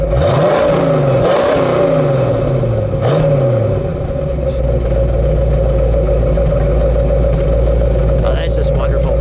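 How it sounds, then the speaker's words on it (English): A 1969 Ford Shelby Mustang GT500 with a 428 Cobra Jet V8 gets revved several times in quick swells, then settles into a loud, deep, steady idle rumble close by, with faint background chatter. "Go ahead, Doug, give it a good rev."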